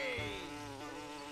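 Wasps buzz in the video game Up: The Game, a steady insect drone with a wavering pitch that holds close and loud for just over a second, with no voices.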